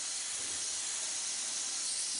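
Compressed air hisses steadily from an airbrush during a pressure test, a broad, even spray noise lasting about two seconds with no voices.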